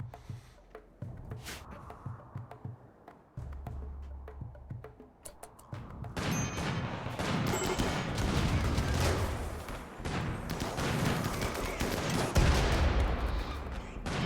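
Slug turret fire in RimWorld: after a quieter stretch, dense rapid bursts of gunfire erupt and keep going loud and close for several seconds, with no talk over them.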